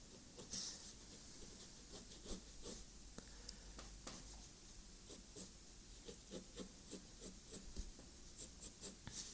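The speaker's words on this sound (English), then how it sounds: "Let's see how this 2H lead's going to hold up." A 2H pencil lead drawing on paper, close and quiet, with steady short scratchy strokes repeating throughout in an uneven rhythm, no talking.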